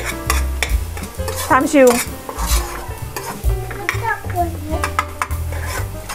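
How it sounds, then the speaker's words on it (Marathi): Onions being stirred and fried until reddish for misal crackle and sizzle under repeated scraping and clattering of a spoon against the pan, with talking and background sound over it. "कांदा लाल होईपर्यंत फ्राय करून घ्यायचा"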